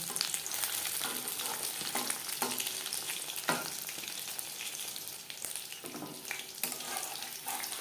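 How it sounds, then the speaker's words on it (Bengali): Fish frying in hot oil over a medium flame makes a steady, moderately loud sizzle, broken by occasional soft knocks and stirring sounds. "হাই ফ্লেমে তেল গরম করে নিয়েছি মাছ ভাজবো মিডিয়াম ফ্লেমে"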